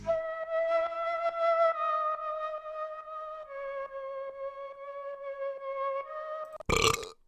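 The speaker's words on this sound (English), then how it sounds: "I used a flute, which sounds like this." A flute plays a legato melody in a hip-hop beat, layered with piano, sustained notes shifting pitch in phrases over steady rhythm, followed by a brief loud burst at the end.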